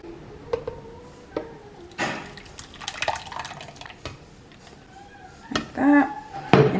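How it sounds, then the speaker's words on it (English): Salsa roja sauce poured into a used bowl lands in scattered wet drips and splats, loudest in a few thick plops toward the end. "I'm gonna pour my sauce in here"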